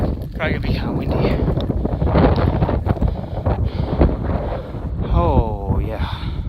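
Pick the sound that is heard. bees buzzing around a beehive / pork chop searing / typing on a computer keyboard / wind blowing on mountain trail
wind blowing on mountain trail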